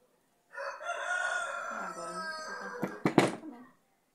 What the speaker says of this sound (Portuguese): esses galos cantando aí não dá mais para gravar aqui